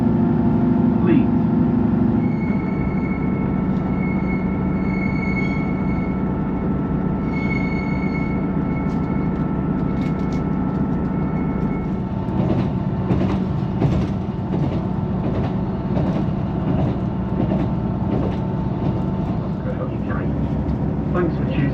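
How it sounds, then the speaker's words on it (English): A Northern passenger train to Leeds rumbles along steadily, with wheel and rail noise throughout and clattering rhythmic track joints in the second half, under an onboard announcement. "Welcome on board this Northern Train"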